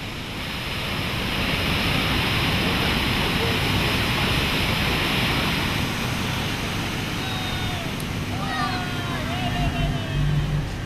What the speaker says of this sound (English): to fall through a series of foaming, roaring cascades down a drop of about 50 meters